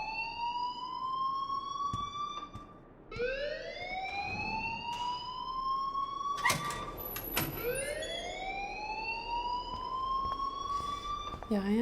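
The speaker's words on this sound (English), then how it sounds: "please turn off that alarm since that's your job" A school fire alarm in the video game Life Is Strange sounds as a continuous rising siren that repeats in sweeping whoops, loud and steady throughout, with sharp clicks and knocks scattered over it and no speech.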